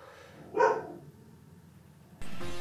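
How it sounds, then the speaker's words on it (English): A puppy gives one short, sharp bark, close and fairly loud, followed by quiet and then a burst of broad noise. "Oh, puppies are barking."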